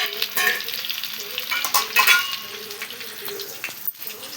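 Garlic, curry leaves and coriander fry in a hot pan, a steady close sizzle with scattered stirring scrapes and pops, brief sharp crackles throughout and no talking.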